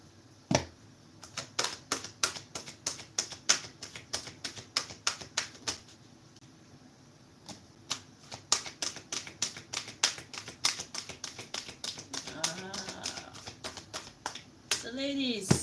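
Rapid riffle-style card shuffling from a large deck, dense crisp clicking bursts with short pauses, fairly close; a voice is faintly present near the end.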